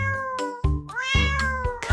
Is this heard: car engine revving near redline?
no